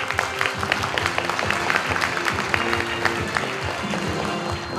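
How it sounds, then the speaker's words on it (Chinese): An audience claps at an award ceremony for a Taiwanese biomedical and agricultural industry competition, producing dense, continuous applause at a steady level. "掌声可以再热烈一点哦"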